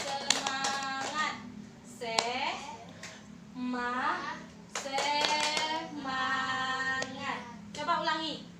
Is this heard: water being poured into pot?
no